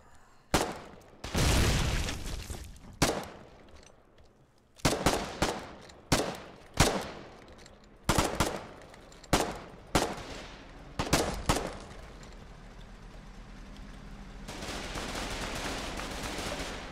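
Bursts of gunfire in the video game Foxhole during a town battle over foxholes, a sharp opening volley, then a run of separate loud, echoing shots at irregular intervals, closing in a sustained rumble.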